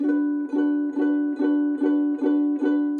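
A ukulele chord strummed repeatedly in a steady rhythm, about seven even strums, ringing clearly and close with no voices.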